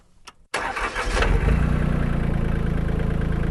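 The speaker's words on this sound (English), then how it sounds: "It's tractor season. Let's start this baby up." A Solis H24 compact tractor's Mitsubishi S3L2 three-cylinder diesel engine cranks and catches, then settles into a steady, loud, rumbling idle close by.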